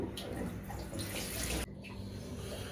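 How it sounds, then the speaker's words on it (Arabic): A bathroom sink tap runs steadily as a razor and face are rinsed after shaving, a close hiss of flowing water that cuts off abruptly partway through, then continues more faintly. "تمشيها تاني تحت المية، تشطفها بس كده يعني، يجي عليها مية وتنزل وبس كده خلصت"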